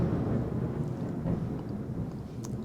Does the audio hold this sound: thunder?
yes